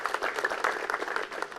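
An audience at a farmers' quiz show in Bathinda, Punjab, gives a burst of steady, fairly faint applause, dense clapping with no voices.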